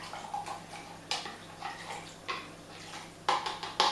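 A spoon stirs gravy mix and margarine into hot water, making a series of light, rhythmic clinks and scrapes against the bowl, close and fairly quiet.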